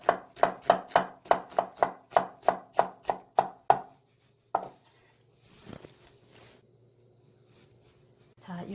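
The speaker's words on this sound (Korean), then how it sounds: "이렇게 채 썰어서." A knife julienning half an onion on a cutting board makes a quick, even run of about a dozen crisp chops, followed by a few quieter kitchen clatters and a faint voice.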